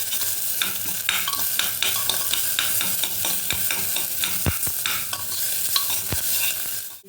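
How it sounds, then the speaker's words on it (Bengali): Vegetables and onion fry and sizzle in a pan for chicken soup, with a steady hiss and repeated scraping, clinking stirs of a spoon against the pan, close and alone. "ভালো করে একটু ফ্রাই করে নেব।"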